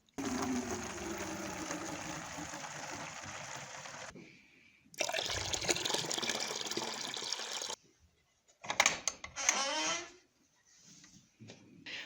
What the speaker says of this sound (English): Let me fill this up again and get them some more.